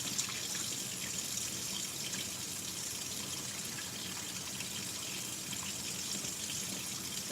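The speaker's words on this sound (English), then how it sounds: "I get some cold water." Cold water running from a kitchen tap while ramen is being made, a soft steady splashing stream with no break, quiet and close, with no one speaking.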